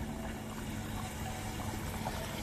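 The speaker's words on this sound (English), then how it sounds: "water's draining," Water draining steadily from an aquaponics grow bed through a bell siphon, a continuous moderate gurgling rush with faint trickling and a low pump-like hum underneath, no voices.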